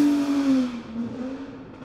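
A Ferrari 250 GTO engine at speed gives a fairly faint, tonal drone whose pitch slides gradually downward, heard alone with no talk.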